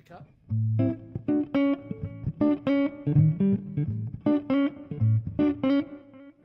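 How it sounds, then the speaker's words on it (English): An electric guitar played through the neck-position humbucker pickup, a run of clean, full, warm picked notes and chords in a steady rhythm, close and clear with no talking. "As you hear, that is the humbucker."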